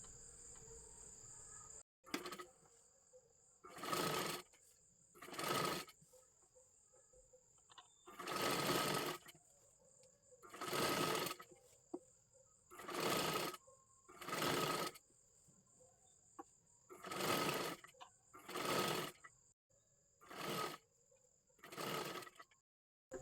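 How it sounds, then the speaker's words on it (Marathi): A sewing machine stitches piping onto a blouse neckline in about ten separate bursts of rapid whirring, each lasting a second or two, with quiet pauses between them and a faint steady high hum throughout. "सर्वात आधी इथे गळ्याच्या आकारानुसार इथे आपल्याला शिलाई मारून घ्यायची आहे"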